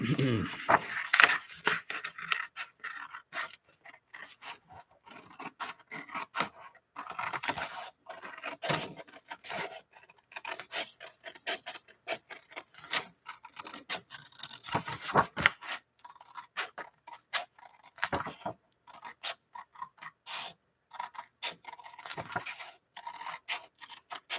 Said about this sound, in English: Or maybe I'll just use scissors.